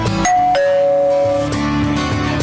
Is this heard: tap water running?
no